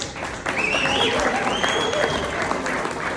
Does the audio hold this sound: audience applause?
yes